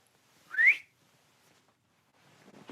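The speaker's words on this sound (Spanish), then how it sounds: "¿Quién silbó?" A single clear whistle, a short rising tone in a church sermon setting, sounds alone in a quiet room before faint murmuring picks up near the end.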